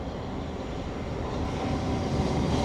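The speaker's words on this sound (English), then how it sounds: "Train's still going." A South Western Railway train passing near a canal in London, a continuous low rumbling roar that stays steady and slightly swells toward the end, heard at moderate distance with no talk.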